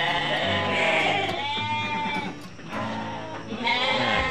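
Javanese goats bleating at a goat farm near Bogor that raises animals for Qurban, with several drawn-out, wavering calls overlapping close by against steady farmyard background noise.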